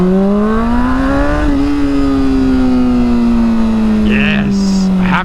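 A motorcycle engine revs while the clutch slips, giving a strong, close droning tone that climbs in pitch, then settles into a long, steady hum with slight wavering.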